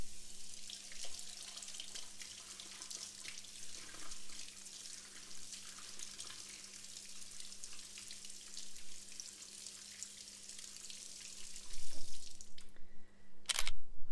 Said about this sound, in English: the first thing we want to do is rinse out our coconut